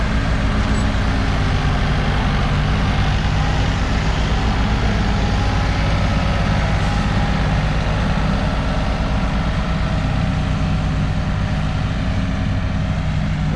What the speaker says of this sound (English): he's over there on the skid steer with the push box